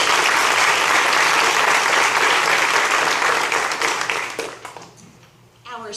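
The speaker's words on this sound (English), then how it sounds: "let's clap loud enough that she hears us wherever" Dense, loud applause from an audience at a youth prize ceremony for a kindergarten-to-second-grade division winner, steady for several seconds before thinning out near the end.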